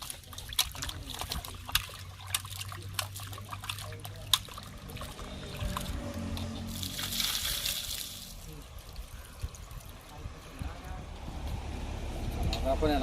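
Tap water runs steadily from a kitchen faucet while raw chicken feet are rinsed for a green-chili curry, a continuous trickling and splashing close by with a few louder spatters.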